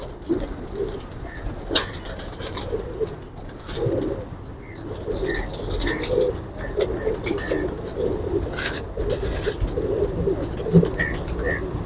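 Pigeons coo repeatedly from a rooftop cage on a city terrace, soft throaty calls recurring throughout with occasional sharp clicks and distant traffic, and someone talks intermittently nearby.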